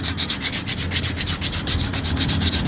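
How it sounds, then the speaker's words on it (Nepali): A motorbike brake shoe is rubbed with sandpaper in brisk, rhythmic back-and-forth strokes that make a close, steady scratchy rasp with no voices. "यो ब्रेक सुललाई हामी खाक्सीले एकदम मजाले घोटेर हैन यसलाई सेतो बनाइदिन्छौँ"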